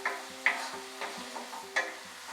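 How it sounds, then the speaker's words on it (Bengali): Paneer butter masala spices are stirred in a pan over a raised flame, with a soft steady sizzle broken by a few distinct scraping strokes of the spoon, quiet and close with no talking. "এটাকে আরো 1 মিনিট আমরা নাড়তে নাড়তে রান্না করব।"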